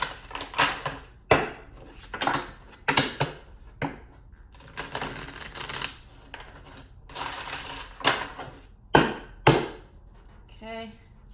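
A brand-new deck of playing cards is shuffled by hand, bursts of riffling and sharp snapping clicks as the cards bridge and cascade, repeated several times at close range.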